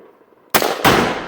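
Two sharp, loud rifle shots from a Black Rain Ordnance Spec 15 fired outdoors in winter, cracking out about a third of a second apart after a quiet pause.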